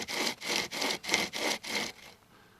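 A hand saw with a chainsaw-like blade rasping through a branch in six steady back-and-forth strokes, close and loud, then trailing off as the cut finishes.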